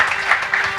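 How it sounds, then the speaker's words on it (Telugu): A church congregation claps loudly together in a quick, rhythmic burst of clapping during a prayer service in Hyderabad. "గట్టిగా చప్పట్లు కొడదాం ఒకసారి."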